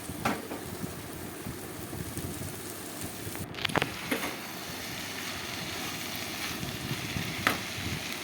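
Chopped banana flower sizzles and fries in a spiced fish masala, a steady, moderately quiet hiss with occasional stirring clatter.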